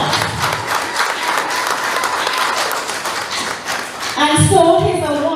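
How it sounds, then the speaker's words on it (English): A crowd claps in a round of applause at a youth awards ceremony, sustained and fairly loud, with a swell of cheering voices near the end. "Let's give DeAndre a round of applause"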